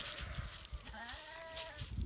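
A young lamb lets out a single wavering bleat among farm livestock, faint and slightly distant over low background rustle and handling noise.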